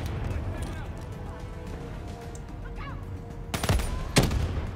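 Gunfire in the Black Ops 3 campaign on Realistic difficulty, with bursts and scattered shots under a player talking, and two sharp, loud blasts near the end.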